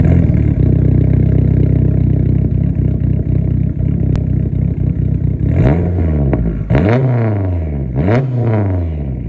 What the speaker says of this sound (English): This is the MPX titanium dual exit exhaust.